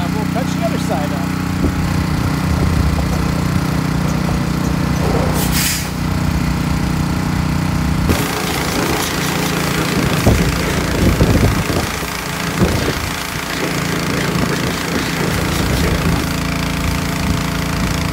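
A large International Harvester Loadstar grain truck engine rumbling steadily with a rough, knocking idle throughout, close by and loud, with a brief hiss partway through.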